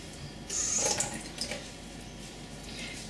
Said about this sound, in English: And add some water to it as well.